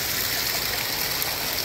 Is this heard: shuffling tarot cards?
no